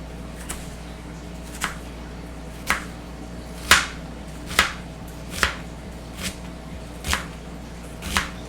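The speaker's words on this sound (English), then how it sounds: "I'm going to start slicing up my onions now" Onions sliced with a knife on a board while making pesto gnocchi: nine or so evenly spaced, crisp cuts close by over a steady low background hum, no talking.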